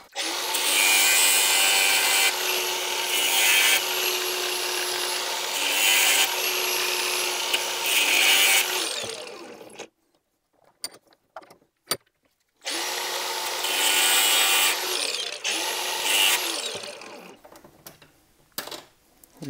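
An angle grinder cuts down a slotted M6 adjusting screw for a Puch Supermaxi 3-speed hand shift: two loud, sustained harsh grinding passes with pulsing pressure, separated by a pause full of small clicks and taps.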